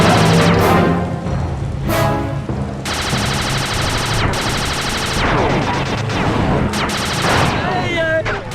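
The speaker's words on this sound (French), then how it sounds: "Riposte avec la tourelle du dirigeable!" Airship turret gunfire in the Sly Cooper 2 video game: loud sustained machine-gun bursts in several long runs with brief gaps, mixed with game effects and voices.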